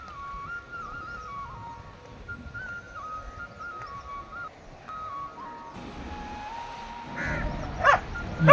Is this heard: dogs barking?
yes